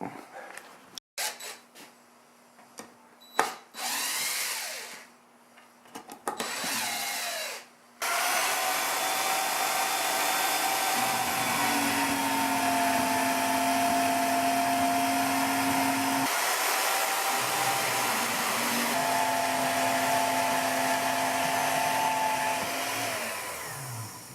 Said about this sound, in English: I want to try to cut it with the Portaband to try to do minimal damage to the texture